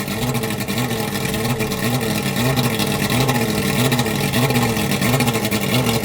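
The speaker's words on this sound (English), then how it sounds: "here you can see the engine kind of running sporadically." A Johnson/Evinrude outboard motor with a faulty powerpack runs loudly and unevenly nearby, its engine note pulsing and surging in an irregular rhythm.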